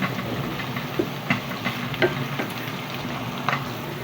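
Banana heart being stirred in a cooking pot, with soft scraping and occasional light knocks of the spoon against the pot over a steady background hiss, fairly close.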